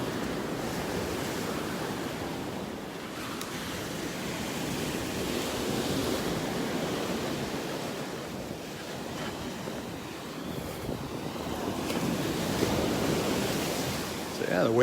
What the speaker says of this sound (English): The wave just came up.